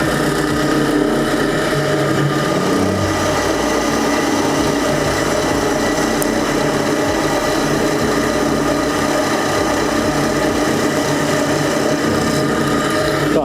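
A GTM ZJW4116 variable-speed drill press bores through 11 mm thick steel at 2000 rpm, giving a loud, continuous whirring and grinding hum that holds steady with no pauses or talk.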